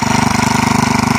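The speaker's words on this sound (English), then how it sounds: "Awesome little tractor." Small single-cylinder engine of a Sears Super SS 12 garden tractor running steadily at close range, a loud, even, rapid chugging idle with no pauses.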